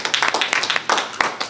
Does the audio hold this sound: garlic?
no